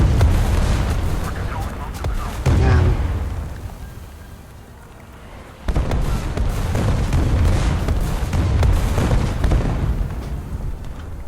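Gunfire and explosions from the tank battle game War Thunder come as heavy booms and rumbling blasts. One loud burst opens, the noise fades to a lull, then a sharp explosion sets off sustained rumbling. Someone talks over it.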